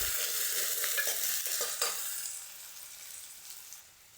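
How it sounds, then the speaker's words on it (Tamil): Small cut onions sautéing in a pan for a tapioca root and bottle gourd dish, a close, steady sizzle with stirring scrapes that gradually fades quieter, no voices. "வெங்காயம், சின்ன வெங்காயம் கட் பண்ணி சேர்த்துருக்கேன். அதை அப்படியே நல்லா வதக்கி விட்டுறலாம்."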